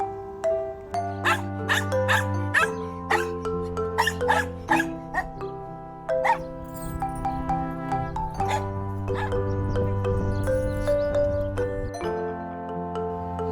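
A dog barks in a series of short, sharp yaps over a light, tinkling musical backing for children, with a voice-like tone woven through the tune.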